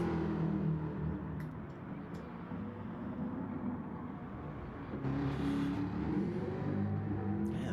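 A continuous Jaguar race car engine roar in a racing video game at Suzuka Circuit, rising and falling as it revs through the gears, with a louder surge toward the end.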